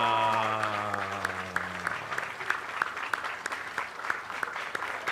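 At an awards ceremony, a crowd breaks into sustained applause that follows a fading musical fanfare and holds steady, loud and dense, throughout.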